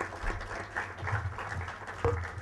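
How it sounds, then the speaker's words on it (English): Applause breaks out for the chief guest at a bank audit seminar, a moderate spread of clapping from a seated audience that swells near the end. "Big round of applause, please."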